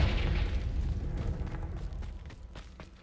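A Confringo blasting spell explodes in Hogwarts Legacy near a Thestral nest, a loud, sustained rumbling boom that slowly fades over a few seconds.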